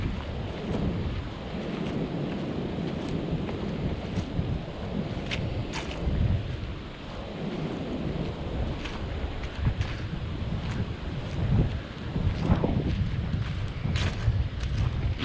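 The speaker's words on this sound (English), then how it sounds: "Wind's picking up again." Wind gusting steadily through a nature preserve on a November walk, a loud rumbling buffet against the microphone with rising and falling surges and no talk.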